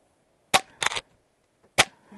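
An Umarex Zelos .22 air rifle fires H&N Sport pellets in sharp, close cracks, three distinct reports with brief mechanical clatter between them, in a quiet backyard.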